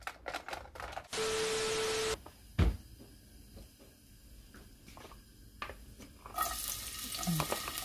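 Garlic frying in oil with salt gives a loud burst of sizzling, then quieter clicks and kitchen clatter, before the sizzle swells up again and carries on.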